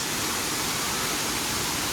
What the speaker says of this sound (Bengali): এইটা হচ্ছে বামনি ফলস।